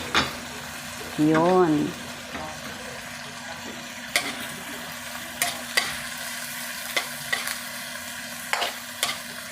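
Mushrooms being stirred into corned beef in a pan, a soft steady sizzle under a humming background, broken by sharp scraping taps of a utensil against the pan and a short spoken word near the start.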